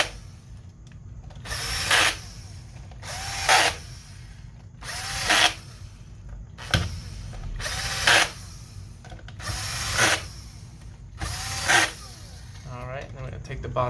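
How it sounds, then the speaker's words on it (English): A power screwdriver fitted with a T10 bit drives screws down into an Xbox Series S, giving seven short, evenly spaced whirring bursts with quiet gaps between them. "We're going to take our T10 bit, screw those down."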